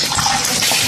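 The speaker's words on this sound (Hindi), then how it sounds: "देखिए पानी निकल रहा है इसका" Water gushes and splashes out of a broken coconut, a loud, close, continuous pouring rush lasting under a second.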